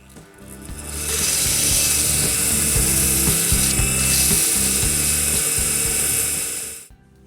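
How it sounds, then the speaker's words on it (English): A wooden ring spins on a lathe while being sanded, a steady close whirring and rubbing hiss that starts after a second, holds evenly for about six seconds, then cuts off. "I'm going to make my life easier by using the lathe, but you can easily get by with just hand sanding."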